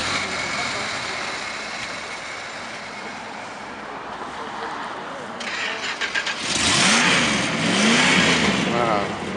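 A 1968 Chrysler 300 with a 440 V8 cranks over, catches and roars into a loud rev, then settles into a rumbling, rising-and-falling idle, with muffled outdoor background noise before it starts.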